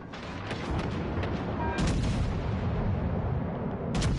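Warship main guns firing in World of Warships aboard the Agincourt, a few deep booming shots over a dense, continuous rumbling roar of battle, loud and close, with no talk.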